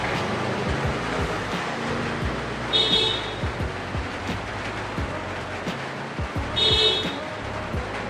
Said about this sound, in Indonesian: ribut banget sih ini klakson.